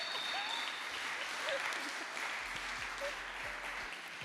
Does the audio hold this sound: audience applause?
yes